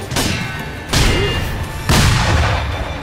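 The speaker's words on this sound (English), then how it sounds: "Gunshots hurt a lot" In Sekiro: Shadows Die Twice, three loud, booming gunshots ring out about one second apart, each a sharp crack with a long rumbling tail.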